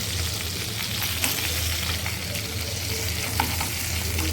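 Stuffed capsicum frying in a pan, a dense continuous sizzle close by with occasional soft stirring scrapes and a low background hum, no talking.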